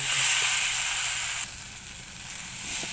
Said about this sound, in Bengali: দেখো আমি এখন ভালো করে কষিয়ে নিই। এভাবে কষিয়ে নেব।